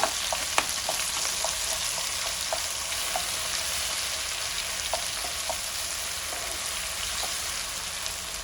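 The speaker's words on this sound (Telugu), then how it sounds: "ఫస్ట్ పచ్చిమిరపకాయల ముద్ద వేసేద్దాం" Green chili and garlic paste frying in hot oil for a bitter gourd and gongura chutney: a steady, bright sizzle with scattered small pops and crackles throughout, close and continuous, with no voices.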